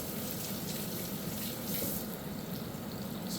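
Tap water runs continuously from a kitchen faucet while a chili pepper is rinsed under it, an even close splashing that lasts throughout with no voices.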